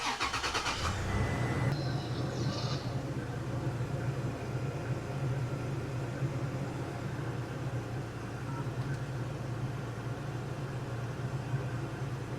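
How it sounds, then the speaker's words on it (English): A Toyota Tacoma truck engine cranks briefly and catches, then settles into a steady low idle rumble that continues evenly, with no voices present. "I am definitely gonna start the truck and give this a test."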